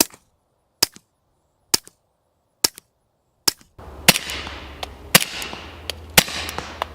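Suppressed gunshots play back from a suppressor review recording, first five sharp isolated cracks spaced about a second apart, then further shots over a noisier background with echoing tails.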